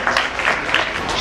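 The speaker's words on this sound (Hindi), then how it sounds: "जोरदार तालियां" Audience applause at an award presentation during a 2013 unity day event, a brief burst of brisk clapping from a crowd, loud and close with a hint of voices.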